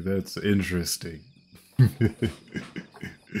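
Faint, steady cricket chirping from the pause menu of the racing game Tokyo Xtreme Racer: Drift 2 hums in the background beneath someone talking, most audible during a short gap in his speech.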